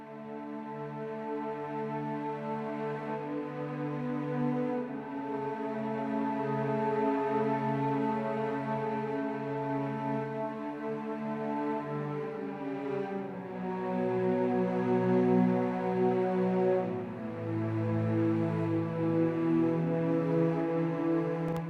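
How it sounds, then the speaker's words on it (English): Soft, airy sustained flautando cello tones from an orchestral sample library move slowly through a gentle melodic line, breathy and smooth with no attack, playing alone. "the cello flautando from the BBC SO sound like this"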